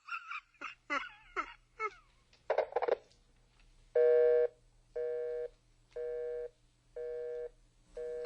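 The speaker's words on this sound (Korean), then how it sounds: "전화가 끊긴다." A telephone busy signal follows a dropped call: a few short rising beeps and dial tones first, then a steady series of evenly spaced, clear tone bursts repeating alone at a regular rhythm.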